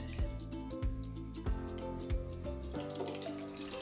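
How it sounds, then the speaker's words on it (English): Water trickles and gurgles steadily through the soil of a newly repotted spiderwort in a Lechuza planter, with a few soft thumps, quiet and close, no voices. "once I hear that the water is running through"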